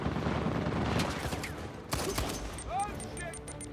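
Minigun fire in Uncharted 4 rattles in a sustained stream under a narrator's voice, with scattered game effects and a brief louder burst partway through.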